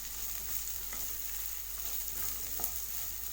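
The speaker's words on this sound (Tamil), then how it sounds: "ஆட் பண்ணிவிட்டு வெங்காயத்தை லேசாக வதக்கி விடுங்க" Chopped onion sautéing with cumin in a pan over a low flame, giving a steady, close sizzling hiss with small crackles throughout and no voices.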